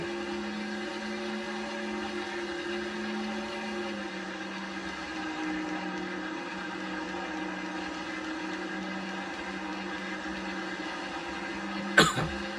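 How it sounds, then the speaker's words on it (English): A single sharp cough near the end, breaking through a steady low mechanical hum and drone from NASCAR Thunder 2004 racing game audio on PS2. "My apologies for the cough."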